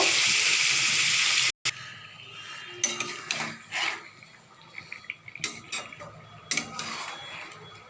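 Chicken being stirred in a pan for dhaniya chicken, with scraping and clinking of a utensil against metal in irregular bursts after a steady hiss, close and moderately loud.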